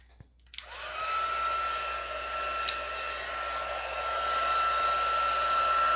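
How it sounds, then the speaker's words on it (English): A heat embossing tool switches on with a click and blows hot air in a steady, loud whooshing roar with a high whine, close by and continuous, with no talking. "we're going to heat emboss. So let me grab my heat tool."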